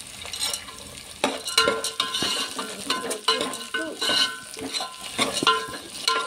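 A spoon stirs flattened-rice snack with onions, roasted gram and garlic in a hot pan, giving steady close sizzling with frequent scraping and clinking against the metal throughout.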